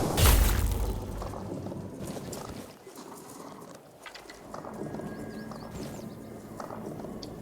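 A horse in Tainted Grail: Fall of Avalon gives a brief hoof clatter and whinny, loudest at the start, then fading into quieter game ambience.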